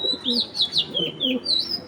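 Pigeons from a fancy-breed collection coo in soft repeated bursts alongside higher chirping calls, close and fairly clear, with no talk.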